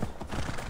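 Horse hooves clip-clop in Assassin's Creed Valhalla, a quick run of close hoofbeats with a whinny mixed in during a brief busy moment.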